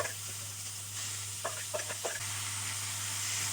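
Onion-chilli mixture stirred into cooked tindora (ivy gourd) in a pan: a soft background sizzle with a few short scraping strokes in the middle and a steady low hum underneath.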